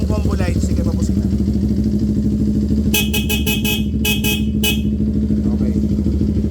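A CF Moto NK400 motorcycle horn blares in several short, loud honks in two clusters over a steady idling engine, close up.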